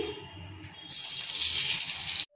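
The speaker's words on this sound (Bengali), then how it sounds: "আমি এরপরে ডালগুলো আমি ছেঁকে নেব, জলটা আমি নেব না" Cooked soybean lentils are strained, and their water pours out in a loud, steady rushing splash that starts abruptly partway through and stops sharply at the end, after a quieter stretch of kitchen background.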